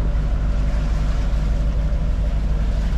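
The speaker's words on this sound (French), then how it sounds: "Je vais pas vite au moteur mais par contre le moteur marche." A sailboat's engine runs at low speed at sea, a steady, loud, droning hum mixed with broadband water and wind noise, with no voices.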